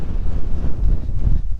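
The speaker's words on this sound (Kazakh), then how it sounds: "Желдің сықпыты мынау." Wind gusting across a frozen lake on first ice, a steady low rumbling roar buffeting the microphone, loud and continuous with no voices.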